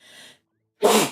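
A single sharp sneeze bursts out after a faint breathy sound and a moment of quiet, close and fairly loud.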